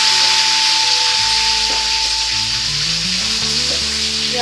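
Fish pieces deep fry in hot oil with a loud, steady, hissing sizzle that never lets up, while soft tonal music plays underneath.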